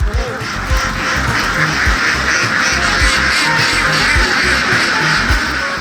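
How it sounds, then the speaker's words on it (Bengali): Dense, continuous quacking from a huge flock on a pond-side duck farm housing fifty thousand ducks in sheds, a loud steady chorus with no clear gaps and little talk. "পুকুরের পারে বত্রিশটি কক্ষে রাখা হয়েছে পঞ্চাশ হাজার হাঁস"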